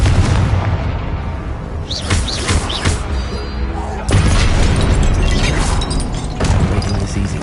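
A spell-blast explosion in a wizard-themed game booms loudly amid a dense, continuous roar of combat noise, with sharp bursts and crashes layered over one another.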